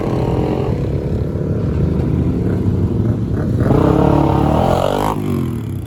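A motorcycle engine with a big rear silencer runs close by, its pitch climbing and swelling louder before settling, over steady traffic rumble.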